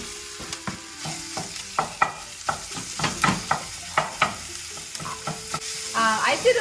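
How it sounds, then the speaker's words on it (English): Pieces of pork frying in a pan with a constant sizzle, punctuated by a regular series of sharp spatula scrapes and taps as the meat is stirred, close and clear with no voices. "And then put the pork in."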